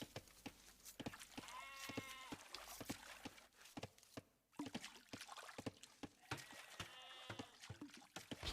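Sheep bleat in an Age of Empires tournament match: two faint wavering bleats, a few seconds apart, among quiet clicking game sounds.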